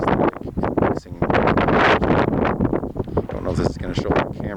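Strong wind gusts across Yellowstone Lake, buffeting the microphone in a loud, continuous roar with a voice faintly underneath.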